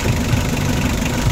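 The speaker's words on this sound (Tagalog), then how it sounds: "Ganda ng andar niya. Ibig sabihin sariwa pa ang makina nito." A car engine, with its cylinder head recently taken down, runs smoothly at a steady idle, a loud close even hum with no talking.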